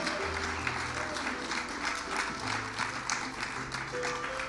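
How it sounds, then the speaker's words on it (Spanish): A church congregation applauds during a sermon, a steady wash of many hands clapping at moderate distance with no pause across several seconds. "Dale un aplauso al Señor, pero dáselo con todo tu corazón."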